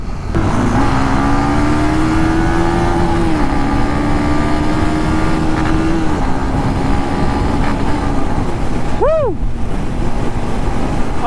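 Motorcycle riding along a bumpy, sandy beach road near a white beach resort in Pagbilao, Quezon, with a steady loud engine drone and shifting pitch throughout, plus a brief swooping tone near the end and no talk.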